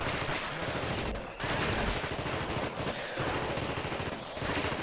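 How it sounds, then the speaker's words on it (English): Machine gun fire in the PC game The Thing, a dense, loud burst sustained across the whole stretch with brief pauses between volleys. "The machine gun."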